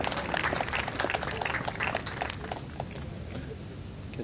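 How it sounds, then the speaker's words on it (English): Crowd applause at a beach karate venue during a women's individual kata round, a dense wash of clapping and cheering that stays loud, then thins slightly toward the end. "Getting good applause from the crowd."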